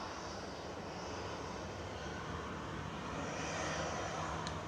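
A Ryanair jet takes off from Manchester Airport, a faint, distant broadband engine rumble holding steady and swelling slightly toward the end.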